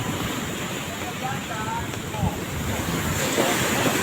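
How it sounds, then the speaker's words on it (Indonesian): Large sea waves surge ashore at night on Anyer beach, a continuous loud wash of surf mixed with strong wind buffeting the microphone, with faint voices in the background. "Air dari laut masuk begitu besar"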